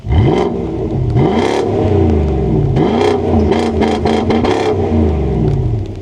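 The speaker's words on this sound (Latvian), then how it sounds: "Un mums ir nenormāli kruta skaņa, V8." A BMW M3 V8 revs loudly and close, its pitch sweeping up and falling back in repeated throttle blips over a steady rumbling idle, with no talk over it.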